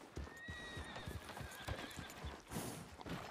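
Horse hooves clip-clopping steadily with a whinny in Red Dead Redemption 2, several close, rhythmic footfalls carrying through the whole stretch.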